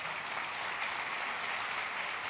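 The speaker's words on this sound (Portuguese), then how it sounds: "Vamos aplaudir ao Senhor pela vida desses irmãos." A church congregation applauds during a sermon, a steady, even wash of clapping that fills the whole stretch at moderate level with no voices on top.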